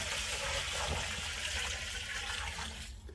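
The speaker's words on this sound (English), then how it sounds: "Alrighty, y'all, we're gonna get that spring water put in." Spring water pours steadily into a barrel of blackberry apple brandy mash, a continuous close splashing and rushing fill that holds level before easing slightly at the end.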